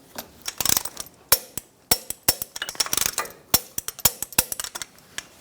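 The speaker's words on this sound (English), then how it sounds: "Torque the bolts to 74 foot-pounds." Bolts on a 2014-2018 Chevrolet Silverado 1500 differential mounting bracket are tightened with a torque wrench, giving a quick run of sharp metallic ratchet clicks in irregular bursts, close and clear with no talking.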